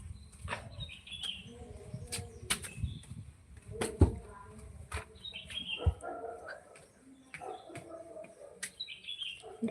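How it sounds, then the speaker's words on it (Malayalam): A neighbour's green bird calls from nearby in a series of short, bright chirps scattered through a noisy backyard, mixed with a few sharp knocks and a brief low bark-like sound. "അത് കിളിയാണ് അയലത്തെ കിളി"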